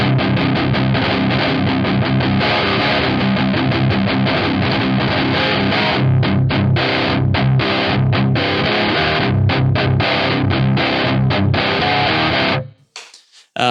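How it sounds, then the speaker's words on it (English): Heavily distorted electric guitar through a Harley Benton Mighty 15TH amp, riffing loud and continuous, with choppy palm-muted stabs near the end before it cuts off abruptly. "I'm going to do a quick jam with just these settings here with this distortion"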